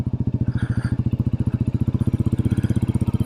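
A Royal Enfield Meteor 350 with an aftermarket exhaust pipe and belt drive putts along at a steady loping idle-to-cruise pace, each exhaust pulse distinct and evenly spaced, near and fairly loud with no talk over it.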